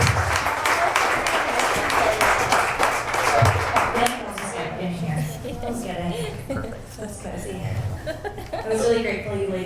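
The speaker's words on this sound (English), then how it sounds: "A big round of applause to our panelists." Audience applause for panelists at the close of a founders' startup event, a dense wash of clapping for about four seconds that thins into scattered claps, chuckles and murmured talk.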